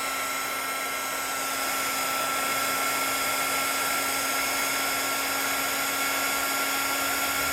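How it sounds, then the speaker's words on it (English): An embossing heat tool warms up to melt embossing powder with a steady, loud, continuous blowing whir and a high tonal hum that never lets up. "This tool's got to heat up before it's going to start melting anything."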